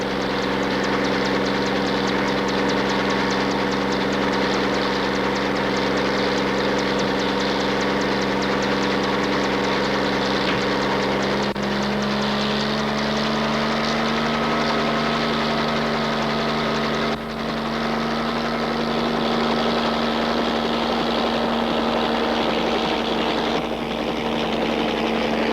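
Steady, loud helicopter engine running continuously for the whole stretch, with a droning mechanical whine that shifts pitch slightly partway through, alone without voices.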